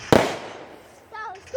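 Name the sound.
fireworks exploding near a house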